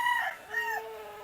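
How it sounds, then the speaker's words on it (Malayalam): A fighting cock bred for cockfighting crows once, a clear, fairly close call that rises and trails off, heard alone without talk. "നല്ല യമണ്ടൻ കോഴികളാണ്, എല്ലാത്തിനും കാലും കെട്ടിയിട്ടിട്ടുണ്ട്."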